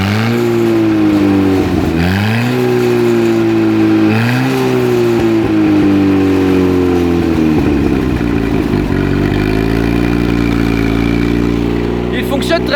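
A 1955 Micromax tractor engine runs loud and close with a steady chugging idle. It revs up in two short pulls early on, then settles back into an even run.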